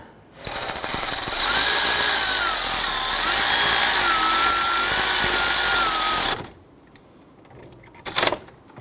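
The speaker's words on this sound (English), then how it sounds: "I'm going to go ahead and use my power tool here to go ahead and zip that in" A power tool whirs loudly and steadily for about six seconds tightening a serpentine belt tensioner bolt on a 2006-2010 Hummer H3 3.7L, then cuts off, followed by a brief clatter.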